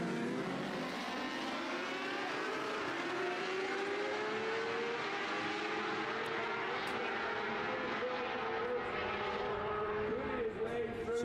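Racing machines roaring past at Bishopscourt circuit during a motorcycle race, engines droning and shifting pitch as they sweep through the corners, steady and fairly distant throughout.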